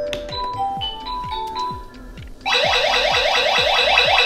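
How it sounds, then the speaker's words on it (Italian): A HOM IO smart home alarm system plays a short electronic chime melody when its door sensor is opened, and then a loud, rapidly pulsing warbling siren cuts in over it. "Se io vado a discostare il sensore porta, parte questa musichetta."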